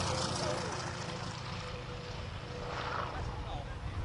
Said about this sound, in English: Wow, that's a fast airplane.